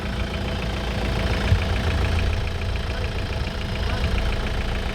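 A steady, low 2.5-litre diesel engine in a Kia Sorento idles nearby with an even rumble and faint rhythmic knocking, continuous throughout with no talking.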